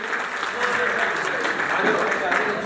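An audience claps steadily to welcome guests at a Nepali Congress party convention in Tokha, a dense continuous patter of many hands.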